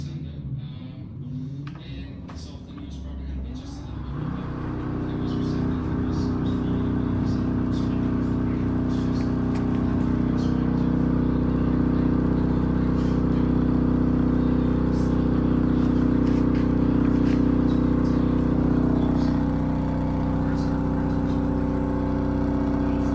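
A small trolling motor on a Nep'Toon Micro Tug model boat spins up and runs, a steady loud whirring drone that builds after a few seconds and holds constant before easing near the end.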